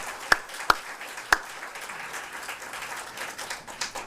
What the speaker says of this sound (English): Could we get one more round of applause